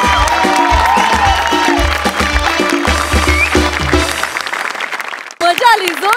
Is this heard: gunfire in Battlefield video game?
no